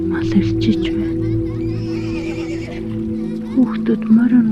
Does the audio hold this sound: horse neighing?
yes